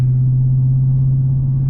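A Dodge Charger 392 Scat Pack's engine holds a steady, loud, low droning rumble while driving, unchanging and close, with no voices.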